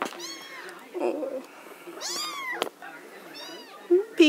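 Three newborn kittens give several thin, high mewing cries, close and scattered over a quiet background, while a person says a brief word.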